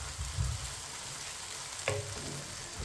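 Onion and garlic fry in a pan over medium heat for beef karahi, a constant sizzle with a couple of soft scraping stirs of a spoon near the start and just before two seconds.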